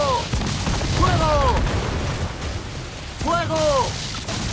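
Ship cannons firing during a naval battle in Assassin's Creed 4 Black Flag, heavy booms under dense battle noise, with shouted voices breaking through twice.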